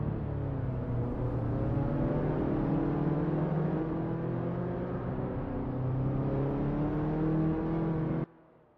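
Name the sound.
Saab 99 Turbo S1 1978 engine roar in racing video game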